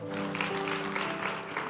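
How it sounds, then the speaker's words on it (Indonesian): A church congregation claps together during a sermon, a short burst of steady applause under a hum of background music. "Tepuk tangan bagi Tuhan."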